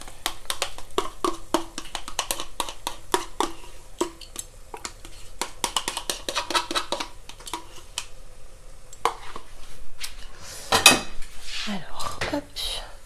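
A pan of shrimp in cream being covered with a lid, with a dense run of close metallic clinks and clatters of pan and lid, one louder clank near the end.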